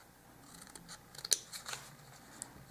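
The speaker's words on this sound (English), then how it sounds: "You're going to cut those lines that you scored down here on this bottom and also the top." Scissors snip through scored paper for a miniature dollhouse porch sign, a few close, crisp cuts with a sharp snap in the middle and quieter clicks around it, no voices.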